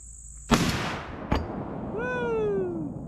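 A single sharp .300 Blackout rifle shot cracks out at a firework on a shooting range, followed by a second brief bang, then a fading whistling crackle as the firework goes off.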